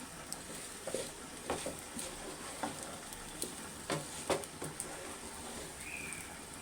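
Food is mixed in a pan over a raised flame while cooking for Eid, a faint sizzle running beneath scattered soft taps and scrapes of the utensil, with no voices.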